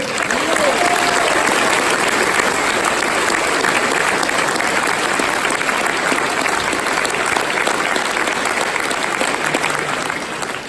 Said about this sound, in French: je voudrais qu'une fois de plus on t'applaudisse très fort